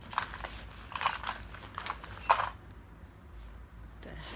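Keys handled inside a blue hydrangea-print nylon pouch from a Dooney & Bourke flap backpack give a few close, light metallic jingles and clinks in the first two and a half seconds, then go quiet.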